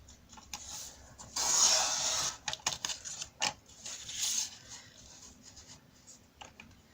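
A handheld cutter slices through craft material in scratchy, rasping strokes, one long drawn cut followed by a series of shorter irregular scrapes, close to the mic with no speech.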